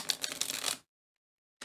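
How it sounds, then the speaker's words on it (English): Tarot cards are shuffled close up in a quick riffling burst of papery flicks, followed by a sudden silence and a brief resumption of shuffling at the end. "let's shuffle these tarot cards"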